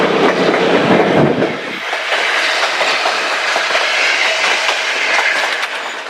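White Pass Railway train running on the tracks, a loud, close, steady rumble with clickety-clack wheel noise throughout, heavier at the start.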